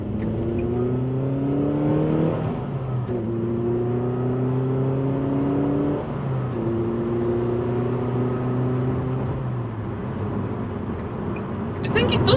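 A Ford Fiesta ST fitted with a Collins Performance torque mount accelerates hard on a dual carriageway, its engine note climbing through the gears with clear drops at each shift, loud and close from inside the cabin.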